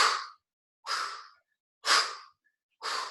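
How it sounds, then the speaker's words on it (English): Heavy, rhythmic breathing from a person during a lower-body bootcamp workout: four strong breathy exhalations, evenly spaced about a second apart, close and loud with silence between. "You can hear me breathing"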